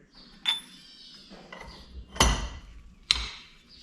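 A metal socket is set inside a trailer wheel hub during a bearing replacement, giving three sharp metallic clinks and knocks spaced a second or so apart, close up with quiet pauses between.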